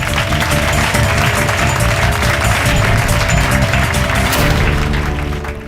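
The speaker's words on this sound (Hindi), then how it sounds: "तालियां" A studio audience on a TV courtroom drama show claps in loud, dense, continuous applause that tapers off slightly at the end.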